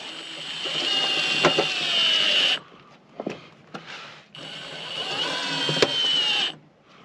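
An impact driver drives four screws into exterior lap siding while a basement bathroom exhaust vent is fitted in winter. Two long, loud, rapid hammering bursts, each about two seconds, are separated by short quieter knocks and handling noise.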